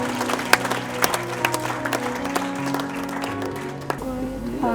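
Wedding guests applaud inside a church during the vows, a steady patter of many clapping hands with sustained musical tones and voices underneath.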